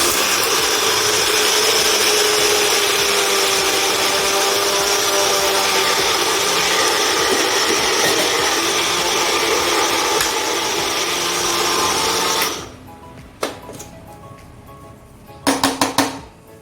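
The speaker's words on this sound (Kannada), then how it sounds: "ಫಸ್ಟ್ ಇದೆರಡನ್ನು ಹಾಕ್ಕೊಂಡು ಪುಡಿ ಮಾಡ್ಕೊಳ್ಳೋಣ." A kitchen mixer grinder powders a couple of ingredients for potato fry and brinjal chutney, roaring loudly and steadily for about twelve seconds before cutting off, followed by a few rattling clatters and a brief restart burst.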